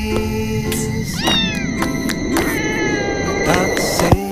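A cat meows and caterwauls repeatedly, with rising and falling wails close by over a busy background of music and clicks, and no talking.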